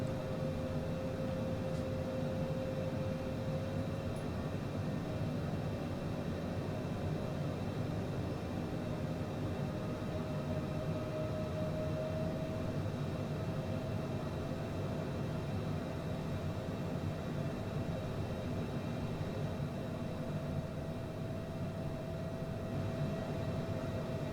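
Steady cabin drone of a CJ4 business jet on approach in Flight Simulator 2020: constant engine hum and airflow with faint tonal whine, unchanging and moderately quiet throughout, no voices.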